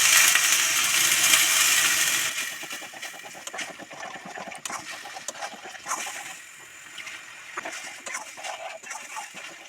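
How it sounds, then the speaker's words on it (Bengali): Okra curry gravy boiling in a pan for a home-style curd okra dish, a steady close bubbling hiss with small irregular pops and crackles, louder at first and then settling into a softer simmer. "দেখুন আমার ঝোলটা ফুটে উঠেছে।"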